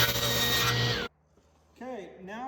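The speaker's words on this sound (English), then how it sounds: "So I set the table saw to 6 3/4, and I'm actually going to end up cutting off most of this planed area" A table saw runs loud and close as it cuts reclaimed barnwood boards, then cuts off abruptly after about a second. A brief quiet follows before a voice speaks.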